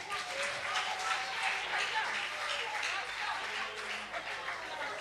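A church congregation claps hands together in steady, dense applause that sounds fairly distant and soft, with voices mixed in.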